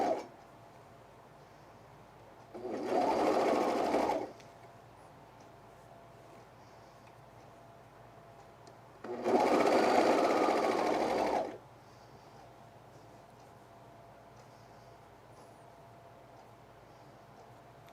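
A sewing machine stitching fleece for a men's quarter-zip pullover, with a fabric-trimming action, runs in two steady bursts of about two and three seconds, separated by quiet pauses.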